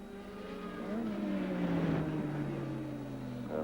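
A 1986 Formula One car driven by Mansell on a slow lap at the Hungarian Grand Prix, a steady droning engine tone that shifts slightly in pitch, heard from some distance and continuous throughout, with no talk.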